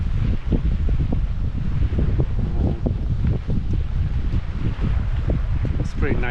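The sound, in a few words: wind at a boat launch pier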